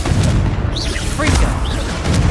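The Confringo spell in Hogwarts Legacy sets off booming blasts, loud and close. They arrive in quick succession under dense game noise with a rumbling low end.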